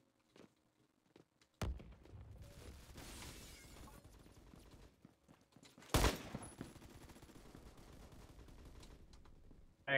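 Pistol fire in a first-person video game: a few sharp, loud individual shots stand out over a low background of quieter game noise and scattered clicks, with long gaps between bursts.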